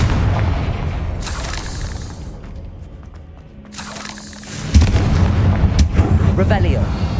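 A Confringo blasting curse goes off in Hogwarts Legacy, a loud booming explosion that lands abruptly over the game's ongoing rumble and effects, with a brief tonal hum just before the blast.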